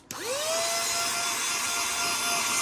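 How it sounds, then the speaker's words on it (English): A vacuum cleaner switches on and runs steadily close by, its whining motor rising in pitch and holding a constant drone, sucking dust away from a collection of 1990s basketball cards. "I'm just gonna vacuum some dust away"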